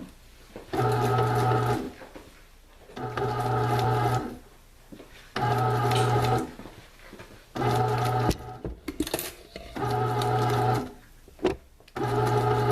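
A bread machine motor whirs in repeated bursts of about a second each while kneading raisin bread dough, pausing between them, with a low hum and a thumping, churning rattle.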